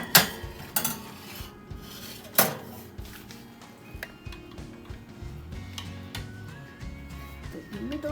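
Baking dish of courgettes with mozzarella being set into a preheated oven: sharp clanks and clatters of dish and oven rack, a few louder metallic hits early on, then softer rattles and scrapes, fairly close.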